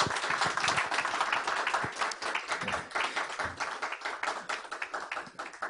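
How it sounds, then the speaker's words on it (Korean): An audience at a lecture breaks into applause to welcome a speaker to the stage, a dense, continuous patter of many hands clapping close by that holds steady before tapering slightly toward the end. "우리 박수로 모시겠습니다."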